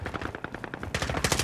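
Gunfire in a Call of Duty video game: a rapid burst of automatic shots in a steady rhythm, then a louder, denser volley near the end. The shots are sharp and close, with no talk over them.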